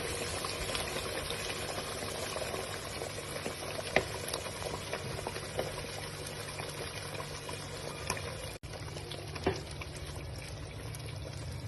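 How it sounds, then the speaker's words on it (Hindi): Browned chicken added to hot ghee sizzles and bubbles steadily in the pan, a constant close frying hiss with a few faint clicks and no talking. "अब जो चिकन मैंने ब्राउन किया था वो बिस्मिल्लाह करके डाला।"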